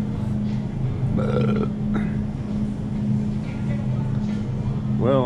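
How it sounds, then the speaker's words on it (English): A man lets out a few short, throaty burps in quick succession, close to the microphone over a steady low engine-like hum. "Well, I burped again."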